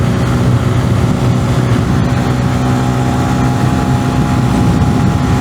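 125cc motorcycle engine held at wide-open throttle while climbing a hill on a winding road, a loud, steady, close buzzing drone with wind rush, unbroken for the whole stretch.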